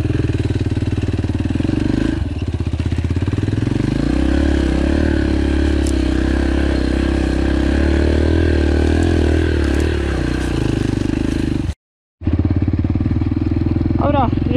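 A Yamaha TTR 125L dirt bike engine drones steadily and close while being ridden, with clattering and rising revs, and a brief dropout near the end before the engine returns.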